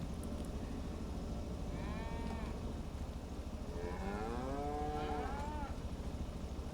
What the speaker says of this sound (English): And we've now got 24 cows in there.